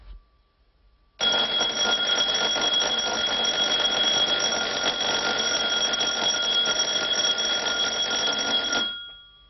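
An alarm device in a bed rings loudly and continuously for about eight seconds, a bright, steady electronic buzz that starts abruptly after a moment of quiet and cuts off at the end.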